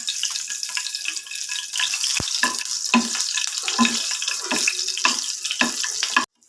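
Green chillies frying in hot oil in a home kitchen give a steady, close sizzle with irregular crackles and pops, plus a few sharp utensil knocks, ending abruptly.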